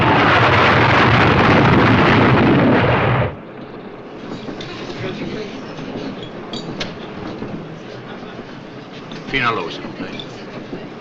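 Inside a moving train, a loud steady roar fills the first few seconds, then drops to a softer rumble with faint clickety-clack under brief talk.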